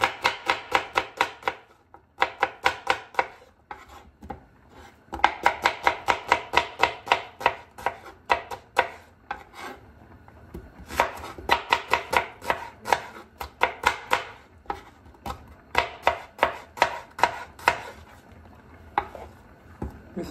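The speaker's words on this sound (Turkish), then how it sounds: "bunu sadece soğanı bu şekilde doğrayıp sumaklayıp" Onion being chopped for a sumac-dressed onion salad, a rapid run of sharp knife strikes on a cutting board in quick bursts with short pauses, close and clear with no talking.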